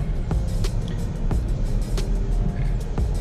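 A Jeep Grand Cherokee fitted with an Apexi open air intake drives in normal mode in light traffic, giving a steady low road and engine rumble from inside the cabin with a few soft clicks and knocks.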